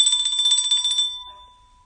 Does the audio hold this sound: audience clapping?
no